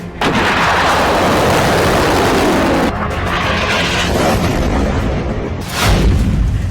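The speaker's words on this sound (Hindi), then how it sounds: "ईरानी मीडिया IRB के मुताबिक ऑपरेशन टू प्रॉमिस 4 की 54वीं लहर में सेजिल मिसाइल को लॉन्च किया गया है।" Iranian Sejjil ballistic missile launching during a wartime strike wave: a loud, sustained roaring rush that holds steady for several seconds, dips briefly, then surges again with a deeper rumble near the end.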